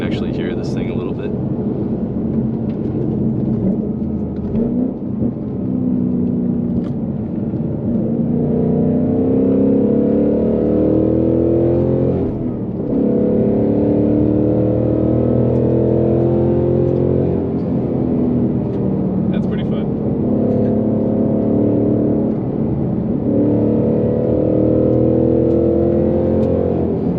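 The engine of a 2021 Ford Mustang Mach 1 drones and swells in long rising and falling rev sweeps while driven on curvy roads, loud and steady from inside the car.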